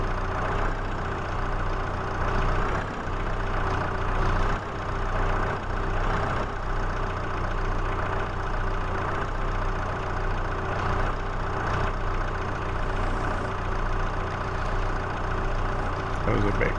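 An articulated tractor engine idles in Farming Simulator 22 with a steady, mid-loud diesel drone and a low hum, while someone talks quietly over it now and then.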